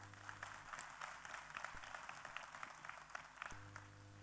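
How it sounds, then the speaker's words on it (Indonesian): An audience at a leadership training event applauds the event staff with steady, fairly faint clapping that fills the whole stretch and carries a low hum behind it. "saya ingin pinjam tepuk tangan hadirin untuk semua staf dari Riway"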